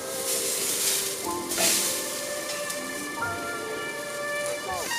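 Burger patty sizzling loudly in a hot pan right after being flipped, a steady crackling hiss with a few brief louder spits and faint background tones.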